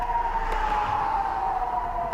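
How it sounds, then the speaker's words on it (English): A steady wailing rocket warning siren holds one sustained tone, heard at a distance against road noise inside a vehicle, in Israel. "Another one of these sirens is just going off."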